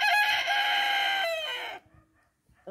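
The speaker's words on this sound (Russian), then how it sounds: "Вот рядом стоит, смотрит на нас петушок гигант джерси." A Jersey Giant rooster crows loudly and close by in one long, strident call that cuts off sharply, leaving faint yard noise behind.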